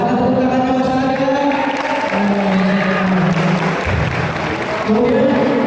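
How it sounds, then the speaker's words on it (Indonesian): Theater audience applauding and cheering for a play's director at a musical drama festival event, a steady crowd wash of clapping mixed with voices and some singing or tonal sound over the top, loud and continuous throughout. "So, mana tepuk tangannya Mas Arya?"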